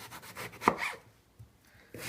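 A knife slices thin, even pieces on a farm kitchen board, giving a few soft rubbing cuts with one sharper knock, then a pause and another cut; close and quiet.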